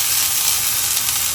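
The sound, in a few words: coconut oil sizzling with fenugreek and nigella seeds in iron pan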